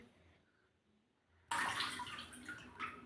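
A child bathing stirs a quiet start, and then a sudden burst of splashing and running water carries on loudly to the end.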